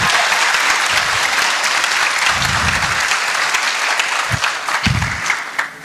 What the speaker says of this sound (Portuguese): Então dá um forte aplauso para Jesus